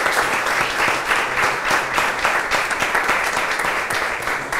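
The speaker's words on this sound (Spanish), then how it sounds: "Un fuerte aplauso para el Señor que sigue haciendo su obra." A congregation at Mass at an anniversary service in a house of prayer claps loudly and steadily, dense close applause filling the whole stretch without any voice.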